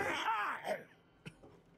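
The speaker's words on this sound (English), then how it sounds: "Who's coughing like that? Cover your mouth, you monster." A hoarse, groaning vocal burst, then a single short, sharp cough-like hack, fairly quiet and close, from a character in Fallout 3.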